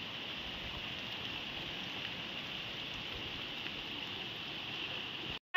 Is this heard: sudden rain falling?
yes